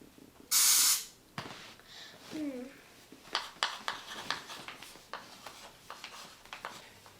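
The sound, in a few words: air spraying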